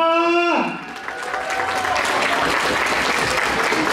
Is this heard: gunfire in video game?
no